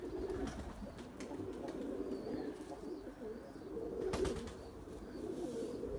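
Purebred Erzurum white pigeons coo in a soft, continuous low murmur, a flock calling together fairly close by with no voices over it.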